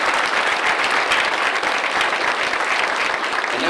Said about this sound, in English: let's give Dallas like a round of applause on the cover of the magazine